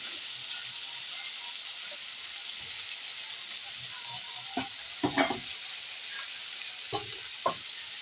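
Potato curry with meat masala being stirred in a pan on a gas stove: a soft, steady background sizzle with a few sharp knocks and scrapes of the spoon against the pan near the end.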